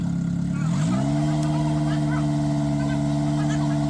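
Rebuilt Toyota 22RE four-cylinder in a 4Runner, close and steady, its idle climbing into a raised, held rev about a second in and staying level, with a faint voice underneath.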